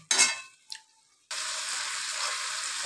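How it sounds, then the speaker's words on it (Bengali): Chicken sautéing in released oil in a pan on the stove, a couple of sharp clattering stirs followed by a steady, close hiss of sizzling with no talking. "এ দেখো মাংসটা কষানো হয়ে গেছে। এবারে তেল ছেড়ে দিয়েছে, দেখেছো।"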